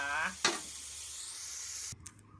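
Chinese kale stir-fried in a pan with sugar gives a steady close sizzle with brief scraping stir strokes; a short voice is heard at the very start.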